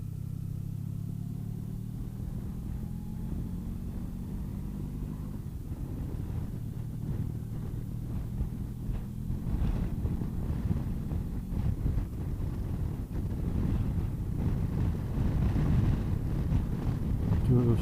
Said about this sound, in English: It's doing a pretty good job of keeping the wind off me, I've got to be honest, on what is a very blustery day